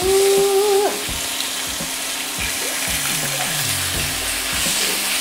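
Chicken pieces for orange chicken frying in a pan, a steady close sizzle throughout, with a brief tonal clink near the start and a few light knocks and scrapes as pieces settle.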